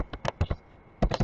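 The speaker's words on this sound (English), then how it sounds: "I'm just typing in random stuff" Typing on a computer keyboard: two quick bursts of sharp key clicks, close and distinct, separated by a short pause of near-silence.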